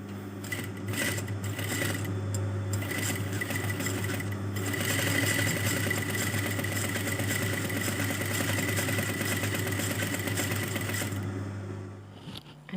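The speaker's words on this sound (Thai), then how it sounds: "เสร็จแล้วเราก็จะไปเย็บ ริมเล็กๆเนี่ยเย็บตกล่องนะ" A sewing machine topstitches close to the edge of bias binding on a shirt, giving a steady, close, continuous mechanical whir that runs unbroken for about twelve seconds before stopping.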